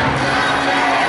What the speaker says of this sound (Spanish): Fuerte el aplauso para David.